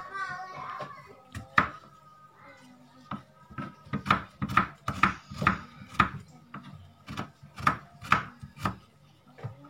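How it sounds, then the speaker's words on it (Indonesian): Garlic sliced with a knife on a cutting board for fried rice, a run of sharp, close taps in a quickening, fairly regular rhythm, with a voice chattering in the background early on. "kita iris-iris bawang putihnya"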